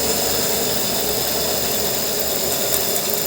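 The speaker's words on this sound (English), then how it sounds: "the generator is working" A generator runs steadily during a test of an EV model, a dense, even mechanical drone with a faint whine, close and constant throughout with no pauses.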